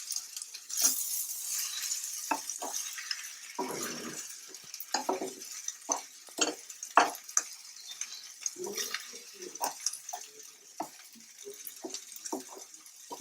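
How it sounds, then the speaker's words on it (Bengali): Ground pea-lentil paste with radish greens is stirred in a wok: a quiet run of irregular scraping and tapping strokes, some sharp and metallic, over faint background hiss. "ডাল বাটাটা দেওয়ার পরে আমি এটাকে আরেকটু নাড়াচাড়া করে নেব।"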